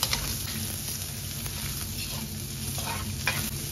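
Onion sautés in a pan for a Bicol-style squash, string bean and shrimp dish, a dense steady sizzle with a couple of brief stirring scrapes near the start and end.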